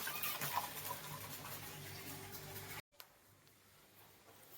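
Garden water from a motor pump runs in a steady gushing hiss, cuts off abruptly, then a quieter watery hiss continues.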